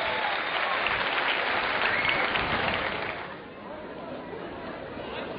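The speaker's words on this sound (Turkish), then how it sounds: "Çok güzel, alkışlayalım." Spectators clap at a traditional archery competition in Biga, a crowd's applause mixed with outdoor chatter that fades partway through, leaving murmuring voices.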